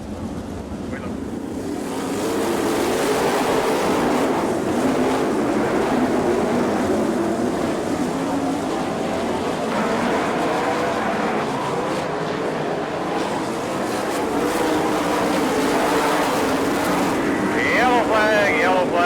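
Sprint cars at an All Star Circuit of Champions race at Bloomington, Indiana, roar out of turn four as a steady, loud engine drone that builds and holds, with wind buffeting and faint talk mixed in.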